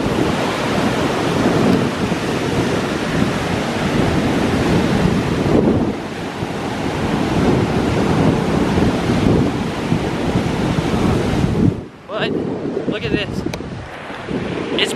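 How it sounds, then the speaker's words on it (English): Heavy surf roars continuously on a beach during Tropical Storm Cristobal, with strong wind buffeting the microphone; the loud, steady wash drops briefly near the end before resuming. "That surf is just incredible right now."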